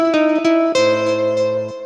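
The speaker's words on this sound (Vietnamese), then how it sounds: "Rồi tiếp theo đó là tiếng guitar nylon." Nylon-string guitar voice from a keyboard, a few soft plucked notes and a held low note ringing out, close and clear with no talking.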